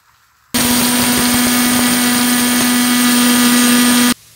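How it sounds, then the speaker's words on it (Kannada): A kitchen mixer grinder whirs steadily as it blends bisi bele bath spice powder with turmeric and salt, a loud continuous motor drone starting abruptly and cutting off after about three and a half seconds, with no talking over it. "ಈಗ ಇದನ್ನು ಚೆನ್ನಾಗಿ ಮಿಕ್ಸಿ ಮಾಡಿಕೊಳ್ಳಿ."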